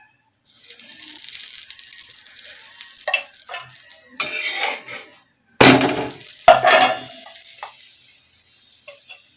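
Aloo paratha, a potato-stuffed flatbread, frying on a griddle with oil or ghee: a light sizzle with intermittent scraping and stirring sounds, a few louder bursts as it is handled, fairly close, no talk.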